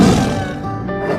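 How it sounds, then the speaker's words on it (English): A tiger gives a loud, close roar that starts strong and rough, then rumbles on and slowly fades across the second. "Tiger."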